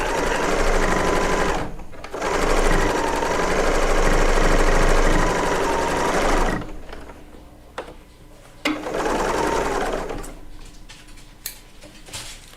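A serger sewing machine runs in loud, fast mechanical bursts, stopping and starting several times with brief pauses and clicks between stretches of stitching.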